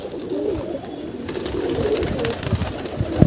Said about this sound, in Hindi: देखिए आप, ये जंगली बबरा कबूतर है